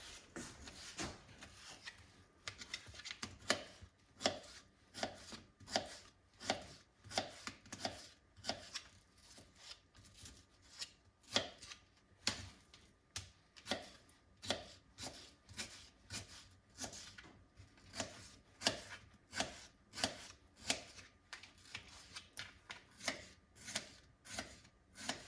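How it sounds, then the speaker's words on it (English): A knife cuts mango into smaller pieces on a cutting board, giving a long run of soft, evenly spaced chops that stay fairly quiet throughout. "so now I'm just going to slice them smaller"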